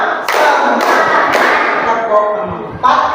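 A classroom of pupils clapping in a counted pattern: several sharp, loud bursts of group clapping spaced across the moment, with a voice speaking between them.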